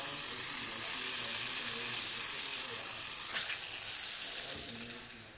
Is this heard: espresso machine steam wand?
yes